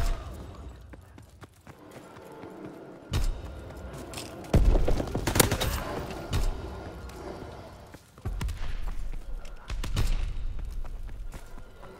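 Gunfire in the Call of Duty: WWII video game, shots fired out a side window, heard as several loud bursts and booms scattered across a busy battle mix.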